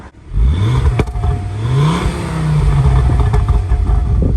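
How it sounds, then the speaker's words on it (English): A Ford Focus ST five-cylinder engine on the standard exhaust runs loud and close, its low drone rising and falling in pitch, with crackles and small pops scattered over the rumble. "even with the standard exhaust on it, it still pops and burbles a little bit"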